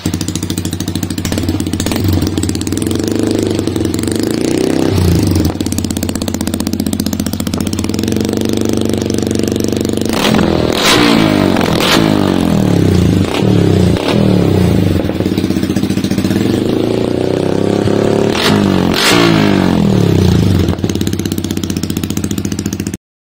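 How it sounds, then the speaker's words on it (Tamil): A loud Yamaha MT15 motorcycle with an Akrapovic exhaust and its dB killer removed idles with a deep rumble, then revs sharply several times in short bursts, with the engine running steadily throughout. "டிபி கிலர் இருக்கு, அதை வந்து ரிமூவ் பண்ணி பார்க்கலாம் சவுண்ட் எப்படி இருக்குன்னு"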